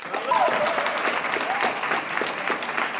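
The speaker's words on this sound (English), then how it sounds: "I'd like to thank and give a big round of applause to our fellow alum, class of 1991, and current superintendent, Mr. Donald Jolly." Applause from the audience at an athletic hall of fame ceremony, steady and dense for about three seconds, with some cheering voices mixed in.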